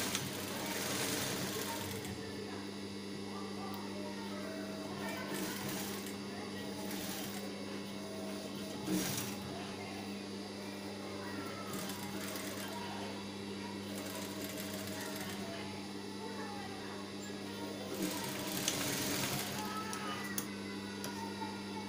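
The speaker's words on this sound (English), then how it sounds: "So let's sew the blouse piece now." A sewing machine stitches a blouse piece with a steady, quiet mechanical whir. It comes in several short runs separated by brief pauses.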